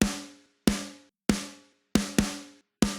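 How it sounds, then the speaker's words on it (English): Six sharp, dry snare hits ring out alone in a loose rhythm, each a punchy crack with a short decay and no room echo. "So the 1123 snare sample sounds like this."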